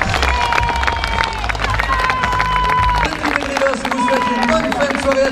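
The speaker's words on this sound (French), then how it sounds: "je voudrais un tout dernier tonnerre d'applaudissements pour le team Helldrivers au complet" Crowd applause and cheering at an outdoor Helldrivers stunt show in Saint-Louis, a steady dense roar of clapping filling the whole stretch, with a loud voice carrying over it.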